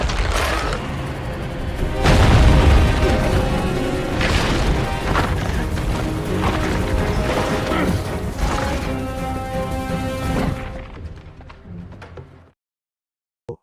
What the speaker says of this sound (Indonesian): Bond juga menembak koper tadi dan koper itu pun meledak.